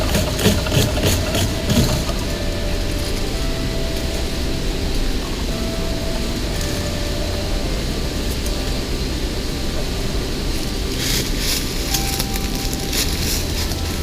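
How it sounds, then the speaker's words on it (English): A hand saw works through paperbark in the Australian bush, collecting tinder, making a continuous rough rasping with a few sharper cracks near the start and end. "That's why I'm using the saw."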